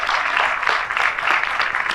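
A studio audience claps for a guest on a talk show, dense and steady applause filling the whole moment at close range with no voices on top.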